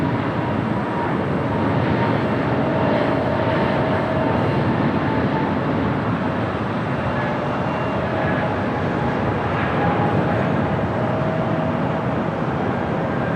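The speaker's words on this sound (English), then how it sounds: "got that Avianca A220 Neo now rolling down" Avianca Airbus A220 jet rolling down runway 25 right at LAX for takeoff, a steady broad roar of engine and airflow holding loud and even throughout with no pauses.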